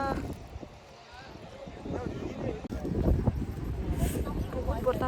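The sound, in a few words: strong cold wind at riverside campsite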